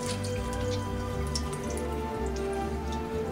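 Water drains and drips off a rinsed turkey being prepared for deep frying. The patter is a steady, close, continuous stream of small drops with no talk.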